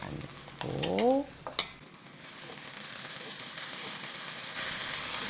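Shrimp and egg fried rice being stir-fried Chinese-style in a pan gives a steady, close sizzling hiss that swells and stays loud, with a few brief clatters and a short vocal sound near the start.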